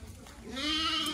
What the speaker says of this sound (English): Yeah, we got some goats here.